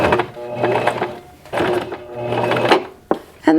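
A sewing machine running back and forth over a seam in short bursts, its close, steady mechanical whirr and needle rattle stopping and starting several times.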